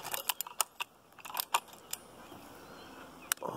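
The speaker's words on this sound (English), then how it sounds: "Keys." A bunch of keys jangles in a series of sharp, light metallic clinks and rattles, close and fairly quiet, handled while preparing to start a motorcycle.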